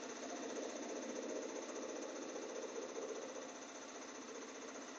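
An embroidery machine stitches a fabric mug rug held in its hoop, a quiet, steady mechanical whir with a fast, even needle pulse running alone and unbroken.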